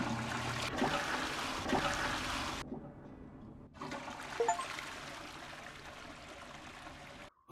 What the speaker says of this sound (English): I decided with flushing all toilets for the Down by the River achievement.